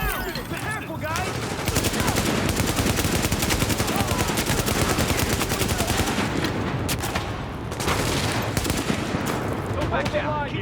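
Sustained automatic gunfire in the game The Division, dense and loud with rapid rattling bursts nearly continuous throughout, voices shouting faintly under the shooting.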